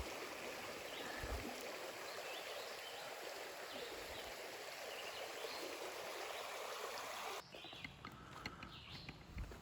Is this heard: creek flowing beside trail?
yes